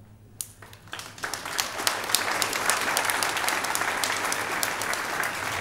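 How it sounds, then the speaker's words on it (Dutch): Applause for mothers and grandmothers at a Mother's Day church service, starting with a few scattered claps that swell within two seconds into steady, dense clapping from a large congregation, fairly close and sustained. "alle mama's en alle oma's even een groot applaus"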